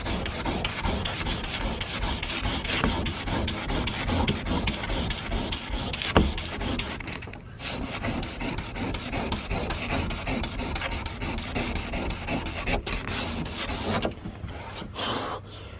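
Hand sanding of a 1979 Honda Prelude car door with 180 grit sandpaper: continuous rapid back-and-forth rasping strokes, close and steady, with a few brief pauses near the end.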